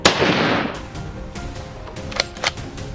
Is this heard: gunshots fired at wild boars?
yes